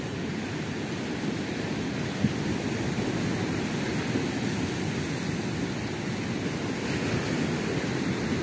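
Sea waves wash steadily onto the shore on a morning coast, a continuous loud roar of surf mixed with wind noise and no voices.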